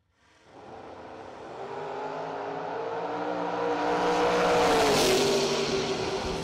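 Drag race launch between a 1960 Corvette in the left lane and a Chevrolet Malibu in the right, engines building from a quiet start into a loud, sustained roar that climbs steadily in pitch before easing off near the end.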